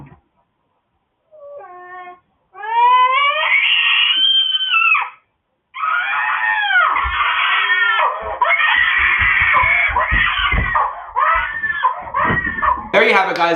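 Children scream and cry at night on home security camera footage, a long run of high, harmonic wails and shrieks after a few short cries, loud and close, with thumps and rustling beneath and a sharp burst at the end.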